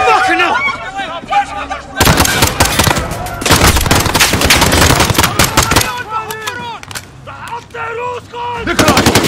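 Rapid gunfire in Call of Duty Modern Warfare (2019), loud bursts of automatic weapons crackling in dense volleys, broken by shouted voices and moments of lighter firing between the heavy stretches.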